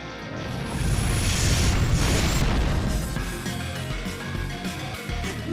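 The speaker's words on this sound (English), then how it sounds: "with a few more bazooka shots, Shin is no more" Loud, sustained booming bursts of bazooka shots in the Shin Megami Tensei IV video game, heavy low rumble swelling and holding through the middle before easing off.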